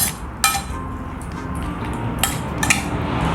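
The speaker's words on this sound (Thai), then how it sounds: "พอเราใส่ทุกอย่างแล้วเราก็คลุกเคล้าให้เข้ากันเลยทุกคน" Utensils mixing a spicy canned fish salad in a bowl, with soft scraping and a few sharp clinks of metal against the dish, close and steady, no talking.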